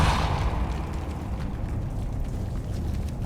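The Depulso repelling spell from Hogwarts Legacy lands as a close, loud rumbling whoosh and burst that swells at the start, then rolls on as a sustained low eruption-like roar.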